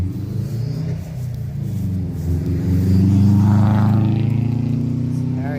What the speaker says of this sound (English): Sorry for the road noise. We're right along the road.